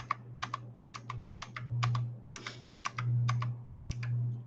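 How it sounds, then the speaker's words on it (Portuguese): Computer keyboard keys clicked in quick, irregular bursts close up, with a low electrical hum underneath and no voices. "Vou dando Enter até encontrar."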